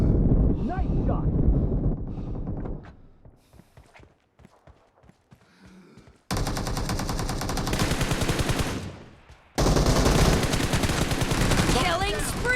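Rapid bursts of automatic gunfire in a team deathmatch video game, loud clustered shots separated by brief quiet stretches, with game announcer voice lines.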